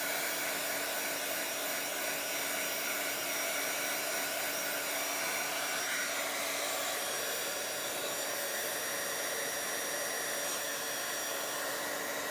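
A hair dryer blows steadily and continuously at close range while drying a Bible journal page, a constant airy roar with a faint whine that never pauses.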